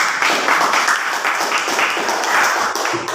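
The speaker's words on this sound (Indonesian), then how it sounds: "kita kasih tepuk tangan untuk kelompok Bhinneka Tunggal Ika" Students in a classroom applaud a presenting group, producing a short, lively round of close, dense clapping that stays loud and fairly even before easing off at the end.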